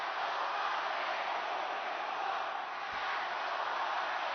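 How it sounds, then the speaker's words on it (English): A wrestling crowd roars in Chicago during WWE Raw, a broad steady wash of arena noise heard from a distance with no clear breaks. "Fiery crowd as normal here in Chicago"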